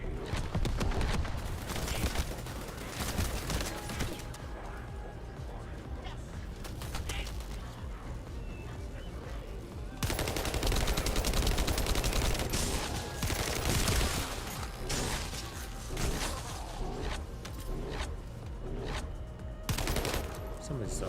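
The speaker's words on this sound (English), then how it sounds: "the rate of fire on this scout rifle sucks" A scout rifle in The First Descendant fires in dense bursts of sharp, rapid shots, with mechanical clatter underneath. The gunfire grows louder in the second half.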